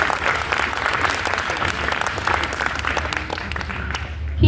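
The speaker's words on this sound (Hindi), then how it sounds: "एक बार तालियां बजाइए ना।" Sustained applause from an audience at a university event, with a low hum and some voices beneath the clapping.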